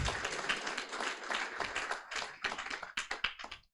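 Audience clapping for a climate startup pitch at a final event, a dense steady patter of many hands that thins toward the end.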